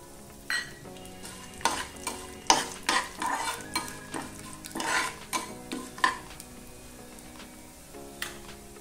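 Cumin seeds, mustard seeds, urad dal and chana dal frying in hot oil for a sorrel and tomato chutney, a soft continuous sizzle with repeated clinks and scrapes of a spoon stirring the pan.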